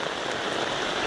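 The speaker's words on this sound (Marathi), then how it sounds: "आणि पाऊस असा पडतोय, रिमझिम रिमझिम." Light drizzle in the rain at Mahabaleshwar patters densely and evenly on surfaces, a close, steady hiss with no voices.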